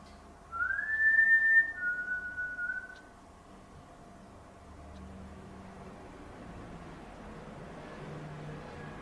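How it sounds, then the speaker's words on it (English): A person whistles a clear rising then steady tune in a shopping arcade during a ghost-hunting livestream, loud for about two seconds, then the space falls to a low ambient hum. "Definitely a whistle as well."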